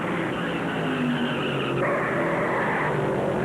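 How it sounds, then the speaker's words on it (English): Race cars spin out and skid on the Darlington Raceway track during the 1977 NASCAR Winston Cup Southern 500, a dense, steady roar of engines and tire noise throughout with no clear pauses. "3 cars spin out of control."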